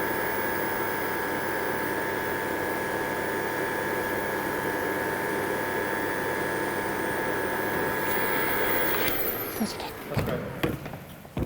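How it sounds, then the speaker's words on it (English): Vacuum cleaner running steadily while dust is brushed off a museum skull into the nozzle, a constant droning whine that cuts off near the end, leaving small clicks and handling noise. "We're starting at the top of the object and flicking the dust into the nozzle of the hoover."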